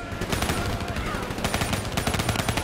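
Gunfire in the video game Black Ops 3 rattles in dense, continuous bursts that sound close. A voice can be heard faintly mixed into the shooting.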